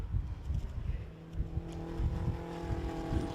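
The RAF Motorsports race car circulates the Anglesey circuit during an endurance race, its engine droning and revving in pulses, moderately close, with a light squeal of tyres.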